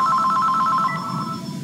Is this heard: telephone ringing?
yes